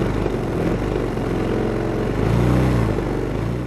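A Gator 150 scooter's GY6 150cc single-cylinder four-stroke engine fires via electric start and settles into a steady nearby idle, rising slightly in revs midway.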